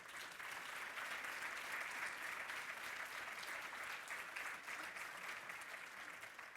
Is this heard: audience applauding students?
yes